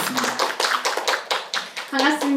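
At a Korean forum on sustainable lives for disabled artists, an audience breaks into brisk applause, a run of sharp, close claps at uneven rhythm, with a voice speaking briefly over it.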